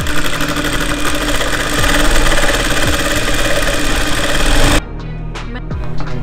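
An electric sewing machine runs steadily while stitching a suit design, a dense continuous whir for several seconds that stops abruptly, leaving a quieter hum and a few light clicks.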